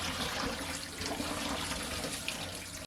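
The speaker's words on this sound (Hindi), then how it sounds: "अब हम इस पर थोड़ा सा ठंडा पानी डालेंगे" Cold water running from a tap over boiled white chickpeas in a strainer, a steady close splashing rush that fills the whole moment with no talk.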